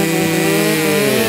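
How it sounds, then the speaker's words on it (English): A chainsaw runs at a steady, close, loud buzz with no pauses, filling the whole short moment on its own. "make your Black and Deckers sing Auld Lang Syne, 'cause I'm getting a new chainsaw for"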